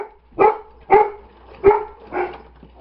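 Several barks from dogs indoors, four sharp evenly spaced woofs close by and fairly loud, with no talking over them.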